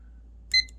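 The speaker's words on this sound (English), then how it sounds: "Let's start the timer." An oven timer is set while baking a Philadelphia cream cheese cheesecake, giving a single short, bright electronic beep over a faint low hum.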